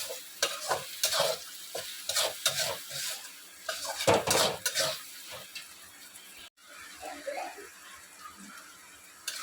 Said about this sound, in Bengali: টমেটো কুচিটা দিয়ে আস্তে আস্তে আবার একটু ফ্রাই করতে হবে।